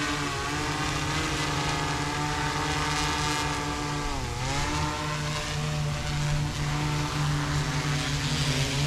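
An industrial drone coming in to land under manual control, its propellers giving a steady multi-tone whine and buzz that dips briefly in pitch midway and then holds, close and continuous with no talking.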